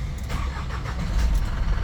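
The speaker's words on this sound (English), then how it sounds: "Okay, engine start." A 3-ton lorry's engine cranks and starts, giving a close, steady low rumble that grows slightly louder toward the end, with no voices.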